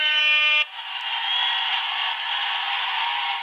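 A cheers-button sound effect goes off as a loud, harsh horn-like buzz. A brief bright tone opens it, then a sustained raspy drone holds for about three seconds with no voices.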